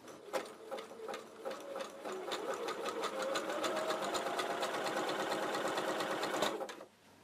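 Janome QC2325 sewing machine stitching a large zigzag, a steady rapid needle clatter running close and loud for about six seconds before stopping.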